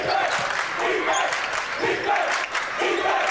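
Home crowd at a high school boys basketball game between Hopewell Valley and Ewing cheers in a gym. Loud shouting and roaring swell in waves, with brief dips.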